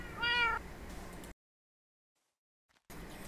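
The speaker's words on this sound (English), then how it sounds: "And cats make noise now." A cat meows in the video game Minecraft: one short, clear mew sits close and alone at the start, followed by silence and low game ambience.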